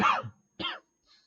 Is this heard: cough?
yes